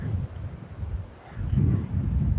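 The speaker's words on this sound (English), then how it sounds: "it is very windy today" Steady wind buffets the microphone in low rumbling gusts at a beach, easing briefly midway before blowing strongly again; no voices.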